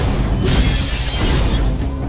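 Glass shatters in the video game Minecraft: Story Mode, a loud bright crash followed by a sustained tinkling spray of breaking pieces, with no speech over it.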